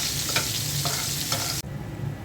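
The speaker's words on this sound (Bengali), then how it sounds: "আমি একটু কাঁচামরিচ" Green chillies and onions fry in oil with a close, bright sizzle and a few stirring scrapes, then the sizzle drops abruptly to a softer hiss near the end.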